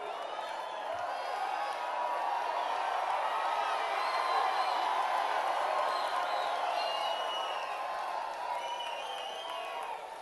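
A large crowd fills a convention-center room at a political campaign rally in Knoxville, Tennessee, a dense roar of cheering and whoops with scattered clapping, sustained throughout and heard from within the hall.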